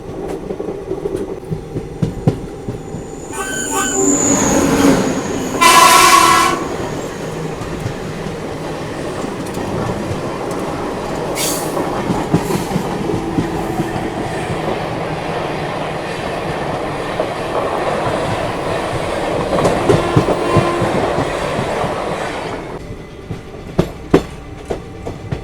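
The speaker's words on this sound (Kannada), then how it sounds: "Siddaganga super fast express." The Siddhaganga Superfast Express rushes past on a curve in heavy rain, a loud, sustained rumble of wheels and cars that swells early, with brief horn-like tones near the start and steady clatter throughout.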